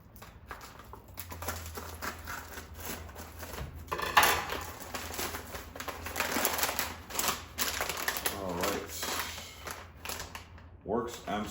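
Packaging for a Werkz M6 inside-the-waistband holster being opened, with close crinkling, tapping and rustling of box and plastic, irregular and fairly quiet, a voice talking over parts of it.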